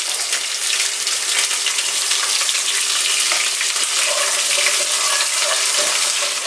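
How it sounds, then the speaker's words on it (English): Red onion frying with mustard seeds in hot oil for a Sri Lankan chicken curry gives a steady, dense sizzle, close and loud, with faint crackles and pops running underneath. "Next, you're going to add in the red onion."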